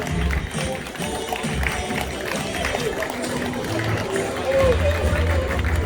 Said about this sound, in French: Et on peut les applaudir encore un peu.